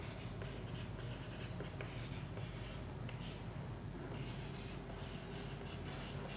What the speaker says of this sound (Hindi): परिभाषा लिखता हूं